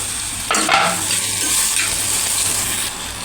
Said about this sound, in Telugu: ఇప్పుడు టమోటో ముక్కలను అయితే వేస్తున్నాము టమోటో ముక్కలు కూడా స్మూత్గా మగ్గాలి మెత్తగా